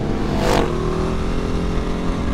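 A Vyrus 985 4V C3 motorcycle engine rumbles and surges as it passes close by, rising then fading into a steady drone.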